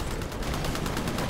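Rapid gunfire from the Titanfall video game fires as a short, loud, dense burst of closely spaced shots with nothing else audible.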